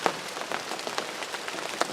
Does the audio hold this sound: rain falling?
yes